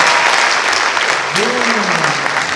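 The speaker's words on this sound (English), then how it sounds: "Big round of applause for Jackson." A high school audience at a magic show bursts into loud, dense applause for a student volunteer, and a single rising-then-falling vocal whoop rings out partway through.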